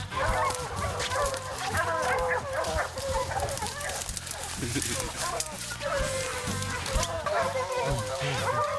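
Hunting dogs on a black bear hunt in thick swamp brush bark and bay at a distance, under steady talking and a dense background.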